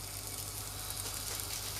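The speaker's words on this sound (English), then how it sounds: "you can hear the sizzle." Steady, loud sizzling of burger patties frying in a hot pan, a continuous crackling hiss with no talking.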